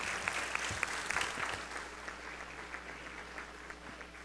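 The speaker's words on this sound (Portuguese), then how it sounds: "Vamos aplaudir de novo o coral." An audience in a formal solemn assembly hall applauds a choir, with moderate, steady clapping at some distance that gradually thins out.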